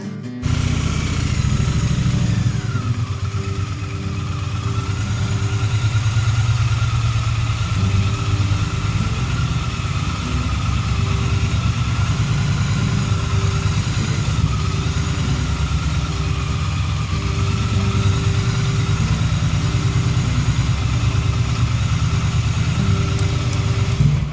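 A Triumph Bonneville motorcycle rides down a cold road, its engine a steady, loud low drone with a constant exhaust rumble and rushing wind held throughout, with no talk.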